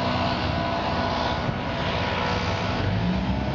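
A leaf blower runs nearby outdoors beside a parked 1956 Chevy pickup, making a continuous loud droning, whooshing engine roar with no break or pause.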